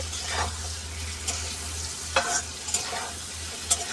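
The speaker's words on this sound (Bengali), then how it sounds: "মশলা দিয়ে দিয়েছি এবার লেড়ে দিচ্ছি" Spiced food frying in a pan, being stirred. A close, steady sizzle is broken by scraping stirs and occasional clinks of the utensil, with a low hum underneath.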